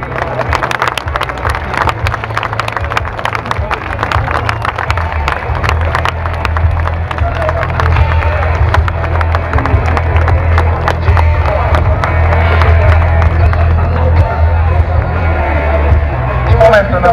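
A crowd at Sofia airport applauds and cheers as General Radev lands a MiG-29, dense continuous clapping with a low jet rumble beneath and people talking over it throughout.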